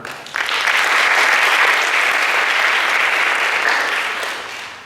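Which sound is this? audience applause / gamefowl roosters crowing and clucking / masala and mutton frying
audience applause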